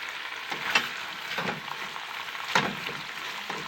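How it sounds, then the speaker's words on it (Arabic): Onions fry in a pot for a chicken dish with raisins and onions, giving a steady soft sizzle with occasional louder stirring scrapes. "كندير البصله حتى هي تشحر"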